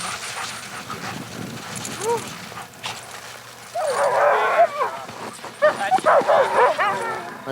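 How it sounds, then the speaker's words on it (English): Sled dogs chained up for the night at a North Pole camp bark and yip in loud, overlapping bursts, with whimpering cries, while people talk nearby. "There's the dogs."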